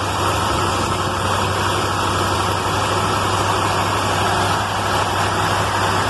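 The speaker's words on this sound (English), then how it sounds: "I'm guessing she should be around there on high idle" A 1956 Chevy engine with a rebuilt Holley carburetor runs at a steady high idle, a continuous loud, even engine drone with a strong low hum holding throughout, with no talking over it.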